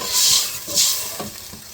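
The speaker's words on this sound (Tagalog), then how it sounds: "kumukulo-kulo na yung ating bagoong" A pot of shrimp paste and water bubbling and simmering with soft sizzling hiss and occasional light stirring clinks, steady and close.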